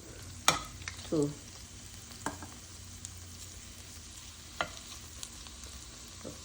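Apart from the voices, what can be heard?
seasoned shrimp added to a hot pot, sizzling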